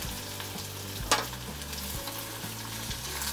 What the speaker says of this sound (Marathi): कांदा चांगला लाल भाजून घ्यायचा।